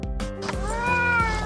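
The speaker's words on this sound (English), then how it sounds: "This is Pinky the cat, a very loving animal." A male domestic shorthair cat lets out a drawn-out, rising meow, close and clear, with a short sharp sound just before it.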